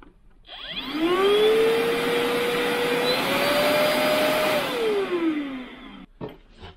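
A vacuum cleaner runs while cleaning a car in a garage. The motor whine spins up, holds steady and loud for about five seconds, then winds down and stops.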